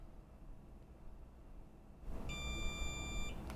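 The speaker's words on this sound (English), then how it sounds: "All right, we got our long beep." After a brief stretch of faint room noise, a single steady electronic beep from a keypad door knob lock after holding its reset button sounds for about a second, clear and close.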